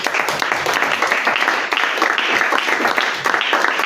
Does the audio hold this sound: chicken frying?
no